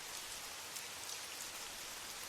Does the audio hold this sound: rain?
yes